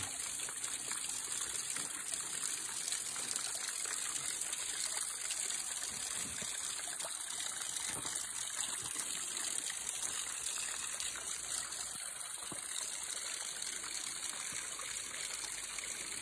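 Water trickles and flows steadily from a small outlet, a continuous close hiss with light dribbling texture that holds at an even level throughout, with no talking.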